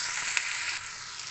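Tomatoes hiss in a hot kadhai, a short, steady, high sizzle heard up close with one faint tap, no speech.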